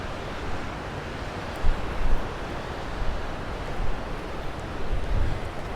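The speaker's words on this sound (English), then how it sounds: "having to battle their way through the waves." Sea waves wash steadily onto the beach at Can Pastilla, Mallorca, where windsurfers ride the surf; a continuous broadband roar of surf mixed with wind noise on the microphone, with a few swelling surges and no talking.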